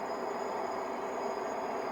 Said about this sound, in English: We got a train.